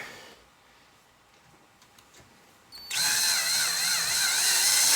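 A power drill drives a screw extractor bit into a stripped screw, starting after a quiet stretch with a loud, steady whine that holds for the rest of the moment, close up.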